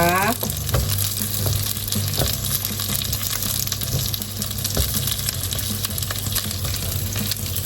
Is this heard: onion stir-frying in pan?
yes